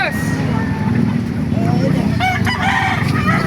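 Chickens cluck and a rooster crows nearby while people talk over them against a busy outdoor background at a chicken market in Baliuag, Bulacan.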